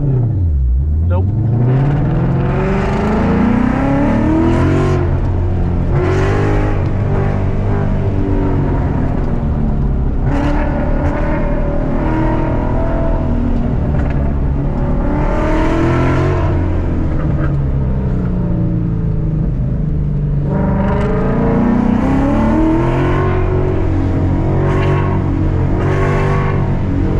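Car accelerating hard through an SCCA autocross course, engine loud and close, revving up and dropping repeatedly through gear changes, with tire and wind noise and someone talking over the engine at times.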